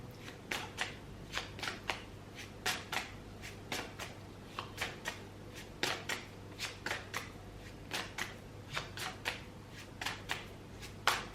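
A deck of tarot cards shuffled by hand in a quiet room, giving a steady run of crisp, close riffling bursts and soft slaps at an irregular, lively rhythm, with no talk.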